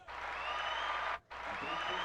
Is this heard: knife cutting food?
no